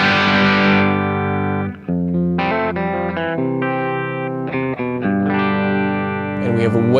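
High-gain distorted electric guitar through a Kemper Profiler, loud sustained chords and held notes with heavy saturation, changing every second or so, played alone.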